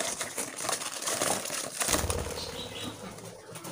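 A budgie flutters out of its cage, a quick burst of soft flapping wings and light rustling close by that fades into quieter cage rattles.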